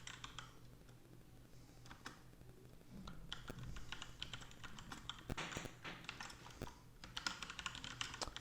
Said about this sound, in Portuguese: Deixa eu digitar aqui.